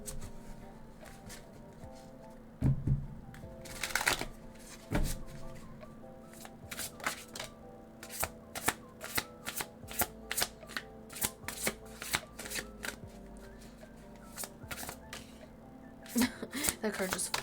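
Tarot cards being shuffled by hand during a card reading, with rapid crisp riffling clicks and slaps in repeated bursts, close and clear.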